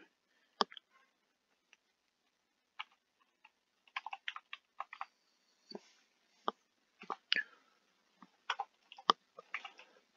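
Keyboard typing in short, irregular clusters of soft, close clicks separated by quiet pauses, with no talking over them.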